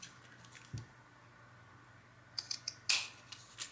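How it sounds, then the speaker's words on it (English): Scissors snip the corners off a piece of burlap, several short crisp cuts clustered near the end after a quiet stretch with a single soft handling thump, close and fairly faint. "I'm just gonna cut the corners off"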